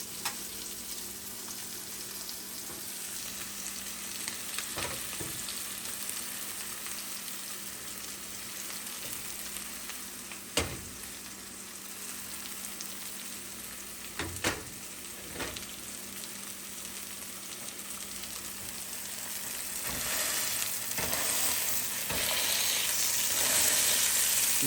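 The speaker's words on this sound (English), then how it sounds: "Love that nice sizzle that makes it crispy" Steady frying sizzle of basa fish fillets in a pan, a dense crackling hiss that holds throughout, with a few sharper pops and a slight swell near the end.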